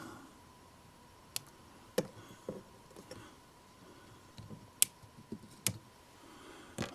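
Wire cutters snip components off a DCC decoder board in a handful of small, sharp clicks spaced irregularly, faint and close against a quiet room hum.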